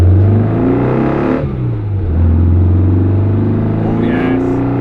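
A Volkswagen Beetle 1303 RS engine drones loudly up close, dipping briefly as it shifts into first gear, then climbing steadily in pitch as it accelerates.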